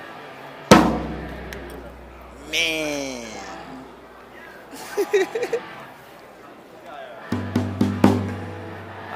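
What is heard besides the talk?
Dixon full rosewood drum being played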